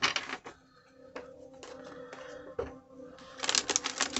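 Tarot cards are shuffled by hand in a series of irregular papery riffles and taps, close and moderately loud, with a busier flurry of snaps toward the end and no talking.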